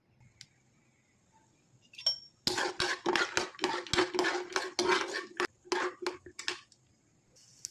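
Peanuts rattle and clink against a pan as they are stirred in hot oil for a tamarind-leaf chutney, with a rapid run of scraping, skittering bursts close by after a quiet start.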